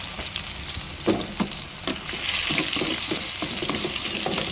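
Garlic frying in the same pan just used for eggplant, a steady crackling sizzle up close that swells louder midway, with occasional clinks and stirring in the pan.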